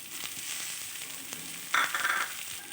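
Fried eggplant is stirred into dima greens sizzling in a pan, giving a steady hiss with a louder scraping stir partway through.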